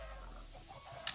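Chickens on a Minecraft chicken farm give a short cluck from the game, a faint murmur followed by one brief, sharper squawk at the end.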